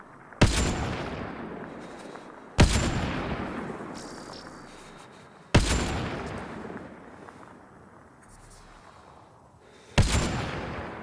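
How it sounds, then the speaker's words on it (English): Gunfire in the sci-fi shooter Mass Effect Andromeda, on the icy world of Voeld: four loud, widely spaced single shots, each a sharp crack trailing into a long echoing decay, with no talk between them. "I can shoot and engage those targets on the bridge down there"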